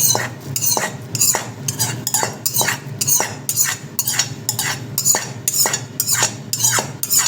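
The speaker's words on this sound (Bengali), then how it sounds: "তারপরে আবার ভালো করে ফেটিয়ে নেবো" Rice dhokla batter beaten briskly with a spoon in a bowl, a steady run of rapid, evenly spaced clinking and scraping strokes, close and fairly loud, with no talking.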